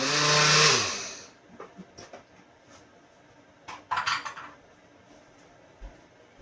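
A short, loud burst of a blender whirring through a cumin spice mix for Mexican chicken, winding down after about a second, followed by scattered clinks and taps of kitchen utensils and no voices.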